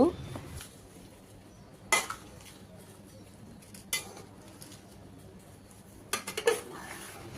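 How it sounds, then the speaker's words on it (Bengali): Tomato sauce with two spoons of salt being mixed in a pot, a few sharp scrapes and clinks of a spoon against the rim spaced out over quiet background, close and soft. "এবার এগুলোকে ভালোভাবে মিশিয়ে নিব"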